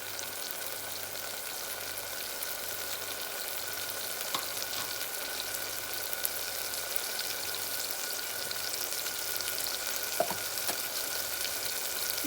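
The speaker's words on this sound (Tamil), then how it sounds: "இப்போ மசாலா நல்லா வதங்கட்டும்" Masala sizzles and fries in oil in a pan for keerai sadam, a steady soft crackle close by with a few faint stirring clicks, no talk.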